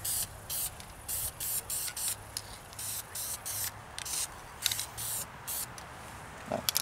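Short hissing bursts of metallic spray paint being applied to a Holley carburetor, repeated in an uneven rhythm of quick passes with brief pauses between, close and moderately loud.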